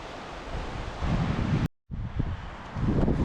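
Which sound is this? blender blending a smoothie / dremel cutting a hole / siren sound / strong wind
strong wind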